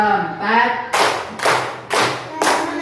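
After a short spoken phrase, four crisp hand claps follow in a steady, evenly spaced rhythm, close and loud, as a clapping signal counting out a prayer time.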